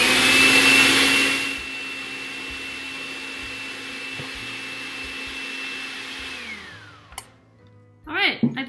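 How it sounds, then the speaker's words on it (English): An electric mixer fitted with a dough attachment churns shortbread dough with a steady motor whir. It starts loud, settles into an even hum, then spins down near the end, followed by a few brief clatters. "Here we go with the mixer."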